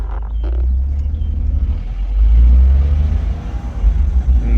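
A Smart car pulls away from a dead stop with a loud, close, low engine rumble that builds as it accelerates, dips around what sounds like a gear change, then surges again.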